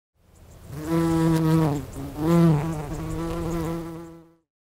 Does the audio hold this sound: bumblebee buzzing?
yes